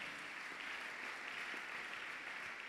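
Steady applause from a church congregation fills the moment, a dense continuous clatter of many hands at moderate level with no talk over it.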